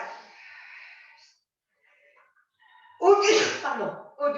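A single loud sneeze bursts out after a stretch of quiet during a resistance band workout, preceded by faint background talk and followed by a short breath.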